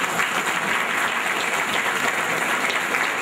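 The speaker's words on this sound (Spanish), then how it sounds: "Uno de los carismas de la parroquia son los aplausos." A church congregation at Christmas Eve Mass applauds in a dense, steady round of clapping that fills the hall and carries on without a break.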